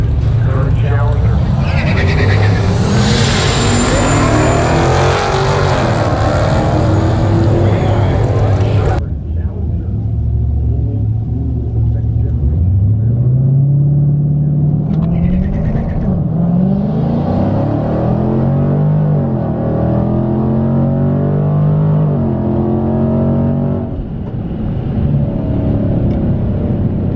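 A 2018 Mustang GT and a Challenger SRT 392 launch in a dig race, loud V8 roars revving and climbing through gears, then fading into distant engine noise, with a voice talking over the latter part.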